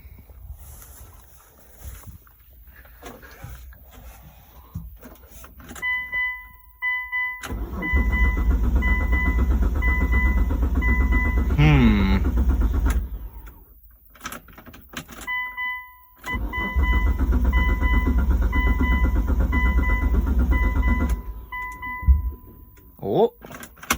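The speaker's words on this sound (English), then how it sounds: "Of course, the good old Toyota fires right up." A Toyota car engine cranks and fires up, then settles into a loud steady idle, cuts off and starts again, with electronic chimes from the dashboard and a person talking over it.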